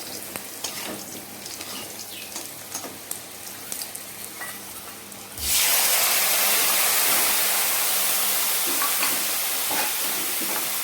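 Potatoes fry with spices in a pan while a boal fish curry with aloo and begun is cooked. Quiet stirring comes first, then a sudden loud, steady sizzle and hiss as the spices hit the oil.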